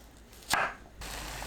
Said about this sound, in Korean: 방울 양배추를 반으로 썰어줍니다.